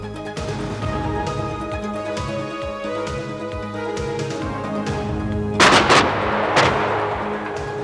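A French GCT 155mm self-propelled artillery gun on the AMX-30 chassis fires, with loud booming blasts and crackling reports over a steady rumbling background and no talk.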